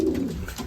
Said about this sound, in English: So we're gonna check on the birds.